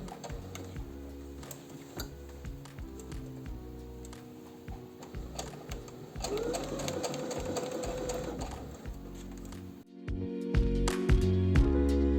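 A sewing machine stitches piping onto the cuff of a pajama shirt, running in a steady rapid rhythm with brief pauses and speed changes. It sounds close and moderately loud and stops abruptly near the end before starting again.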